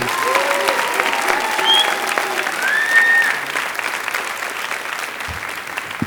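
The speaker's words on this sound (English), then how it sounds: "Can you give them one more round of applause?" Applause from an audience for a group of student performers, a steady dense clapping wash filling the whole stretch at fairly even loudness, with faint whistles rising above it.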